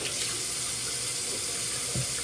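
Water runs steadily from a faucet into a sink, a continuous close hiss and splash that holds for a couple of seconds, used to wet a microfiber makeup eraser cloth.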